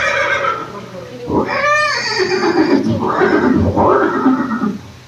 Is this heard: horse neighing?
yes